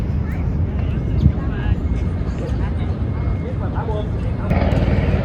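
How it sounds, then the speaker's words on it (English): Aircraft roaring past near the USS Midway, a continuous low rumbling engine drone that builds toward the end, with people talking over it throughout. "We got jets flying by, we got Coast Guard helicopters flying by, Army helicopters, Marine helicopters"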